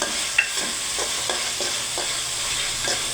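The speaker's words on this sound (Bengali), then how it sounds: "দেখেন ভুনা হচ্ছে, এভাবে রান্না করবেন" Dried fish (shutki) and garlic fry for a bhuna, with rhythmic scrapes of a spatula stirring through the pan every half second or so over a constant close sizzle.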